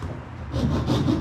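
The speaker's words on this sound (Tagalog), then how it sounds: "So kung meron kayong lagari na may handle, mas maganda." A handled hand saw cuts through a luggage wheel part during a repair, a slow, close rasping stroke that starts quietly and then turns into two louder back-and-forth strokes.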